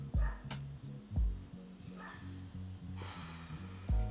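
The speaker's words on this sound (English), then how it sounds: "This dog, every time I film, this dog must bark." A neighbourhood dog barks repeatedly outdoors in Libya, loud, deep woofs arriving in irregular bursts, with softer yips between them and some rustling and background noise.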